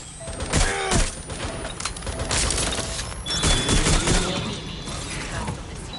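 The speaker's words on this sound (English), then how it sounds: "I need reinforcements. Taking fire." Game gunfire in Watch Dogs: Legion, with sharp mechanical clacks and bursts of shots amid loud, dense combat noise over most of the stretch.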